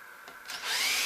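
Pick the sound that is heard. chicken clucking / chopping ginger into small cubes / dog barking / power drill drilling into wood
power drill drilling into wood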